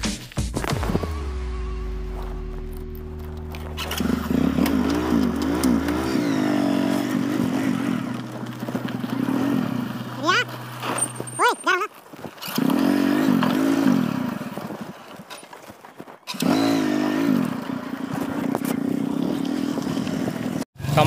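A motorcycle engine starts up, idles with a low rumble, then revs repeatedly in rising and falling bursts, with clattering and rustling in between.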